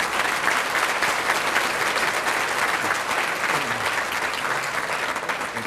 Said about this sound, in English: I'd like a round of applause, please, for the Sam Houston High School Quintet